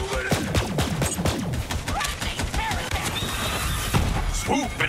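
Pistol fire in the video game Borderlands 3, a rapid series of sharp cracking shots and impacts mixed with game effects and creature cries, with a voice speaking intermittently.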